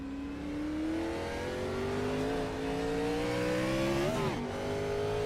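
NASCAR Gen 4 race car engines in iRacing rev as one steady, loud whine whose pitch climbs slowly, then surges and wavers near the end, with no voices.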